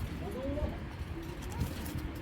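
Domestic pigeons in a loft coo softly in low, rolling phrases, close by over a steady background hum.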